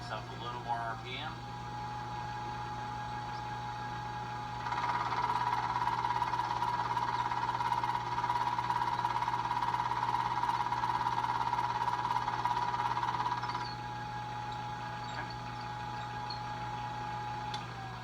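Milling machine cutting a sample part at about 510 RPM, a steady mechanical hum that grows louder and brighter for several seconds mid-cut with a sustained tonal whine, then drops back to a quieter running drone.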